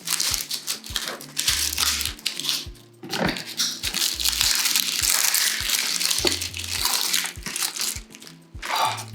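Capsicum and eggplant washed by hand in water during home cooking, with splashing, rubbing and clunking of the vegetables in irregular bursts close by, alongside a few low knocks.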